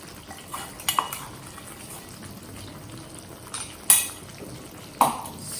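A spoon stirs potatoes in gravy in a pan, with soft bubbling and a few sharp metallic clinks against the pan, close and fairly quiet.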